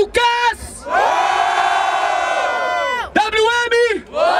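A live crowd at a Brazilian freestyle rap battle in Barueri roars, cheers and shouts loudly and continuously, with a short break before the noise surges again.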